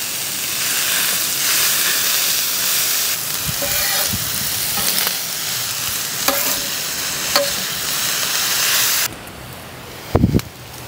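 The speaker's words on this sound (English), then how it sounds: "I'm gonna add some homemade bacon and onions. We're gonna saute these off" Homemade bacon and onions sautéing on a hot flat-top griddle for a Reuben sandwich, a loud continuous sizzle with occasional scraping stirs and a brief clatter near the end.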